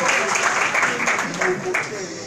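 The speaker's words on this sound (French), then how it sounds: "On va lui offrir une vague d'applaudissements s'il vous plaît pour ce bel événement qu'il a vécu." Audience applause at a launch ceremony for the Infinix ZERO4, a steady wash of many hands clapping throughout, fairly loud and continuous, with a voice carrying faintly over it.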